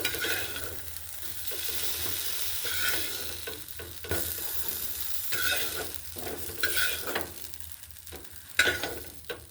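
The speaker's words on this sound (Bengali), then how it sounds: "বেগুনগুলোকে ভেজে নিচ্ছি নুন আর হলুদ দিয়ে" Eggplant pieces seasoned with salt and turmeric fry in hot oil, a steady close sizzle with occasional stirring scrapes and spatula knocks running throughout, no voices.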